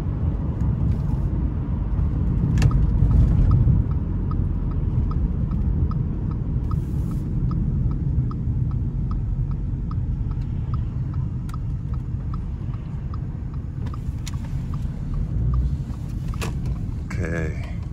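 A small engine runs on a used-oil fuel mix at a 16:1 ratio. It holds a steady, close idle rumble for the full stretch, with a faint regular ticking riding on top.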